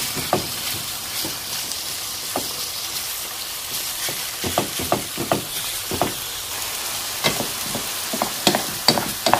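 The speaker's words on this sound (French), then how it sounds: "Donc je vais bien l'écraser avec une fourchette avant de mélanger avec les légumes." Meat for a batbout filling mashed with a fork in a pan: repeated sharp taps and scrapes, irregular and growing busier, over a soft continuous sizzle.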